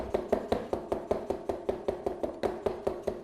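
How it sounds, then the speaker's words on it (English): A knife chops ginger roughly on a board in quick, steady, evenly spaced knocks, close and fairly soft, with no talking. "Start with a base of roughly chopped ginger."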